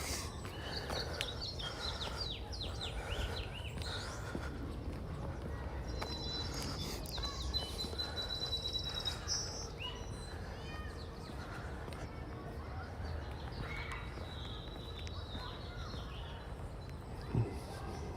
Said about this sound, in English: the birds sound lovely today.